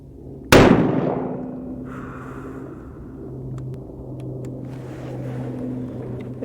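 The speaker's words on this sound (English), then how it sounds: "shoot on the upper left target. Upper left target, 3 rounds." A single loud rifle shot from a .350 Legend rifle at a target range, sharp and close, followed by a long rumbling decay and low ambient hum.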